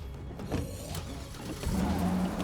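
A car driven in the zombie survival game State of Decay 2, with a low engine hum and a rising rev near the end, moderately quiet and heard alone.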